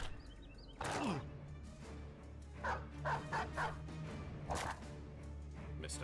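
A dog barks in the medieval tactics game Battle Brothers during a battle, a few short loud yelps and barks spaced over several seconds above a low steady game hum.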